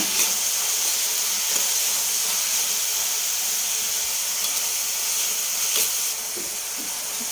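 Onions frying in oil in a pan, a steady, even hiss of sizzling throughout with a few faint clicks, close and without talk.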